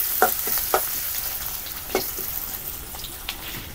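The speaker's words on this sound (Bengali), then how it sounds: "পেঁয়াজটা একটু ভাজা নেই," Onions frying in hot oil in a pan, a steady close sizzle with a few sharp pops and stirring scrapes, no voices.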